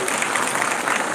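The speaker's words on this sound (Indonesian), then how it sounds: "tepuk tangan buat semua dulu" A church congregation claps together in a sustained burst of applause, dense and even throughout the short moment, filling the hall with no single voice standing out.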